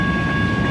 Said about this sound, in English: we are at a crossing which is currently being used by a freight train